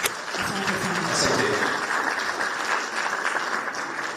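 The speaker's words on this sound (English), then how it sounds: "Please let's give him a round of applause" A round of applause from the audience at a Kenyan productive capacities dialogue event, steady and sustained across the whole stretch, with a faint voice briefly audible near the start.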